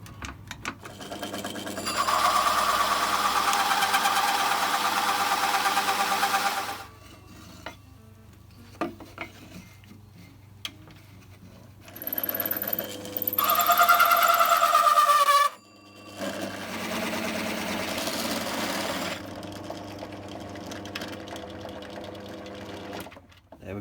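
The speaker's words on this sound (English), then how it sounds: "We'll drill through with the hole saw part way through this side" A power drill fitted with a hole saw bores part way into a wooden board, a clamp holding it steady, in loud sustained grinding bursts with short pauses between and a rising whine as the cut speeds up.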